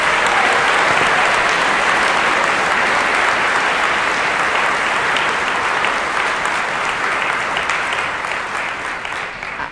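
Sustained, loud applause from a large audience honoring nursing school graduates at a pinning ceremony, steady clapping throughout that slowly tapers toward the end.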